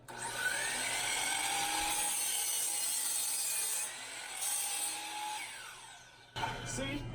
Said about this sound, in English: you turn the blade on at the top of the spin, and then you're going to go all the way through the piece of wood and bring it out